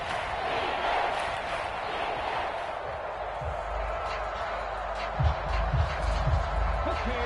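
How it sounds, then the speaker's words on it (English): A football stadium crowd roaring steadily ahead of a big third down, a broad, distant wash of cheering running throughout while a commentator talks over it. "The crowd getting into it as we come up on a big third down."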